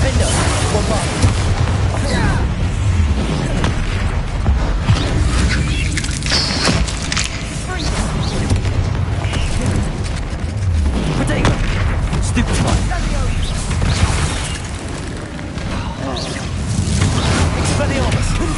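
Confringo and Bombarda spell explosions in the game Hogwarts Legacy during a troll fight, heavy booms and blasts firing in a dense, continuous barrage with a voice shouting spell names over them.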